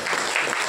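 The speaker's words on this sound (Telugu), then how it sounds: "చప్పట్లు కొట్టు" Church congregation at a Sunday worship service clapping hands together, a brief burst of dense, steady applause filling the room.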